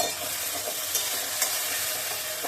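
Rice and vegetables fried in hot oil in a pan, a steady, loud, close sizzle with faint scraping of a stirring spoon throughout, no voices.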